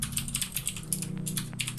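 Rapid typing on a computer keyboard as a password is entered, a steady run of close, crisp key clicks with a low hum underneath.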